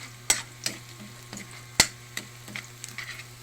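Sliced onions caramelizing in a frying pan give a steady soft sizzle, broken by sharp, irregular clicks and taps from stirring.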